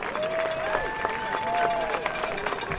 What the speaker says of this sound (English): standing and joining us in a round of applause